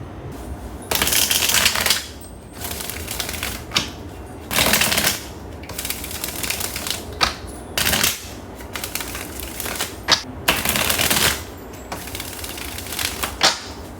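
Tarot cards being shuffled in repeated riffling bursts, each a crisp papery flutter lasting a second or so, separated by short pauses and softer handling sounds, close up with no talking.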